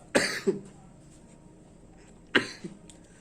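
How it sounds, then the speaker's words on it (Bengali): A person coughing indoors, two separate bursts each with a short follow-up cough, close and fairly loud against a quiet background. "কাশি হচ্ছে"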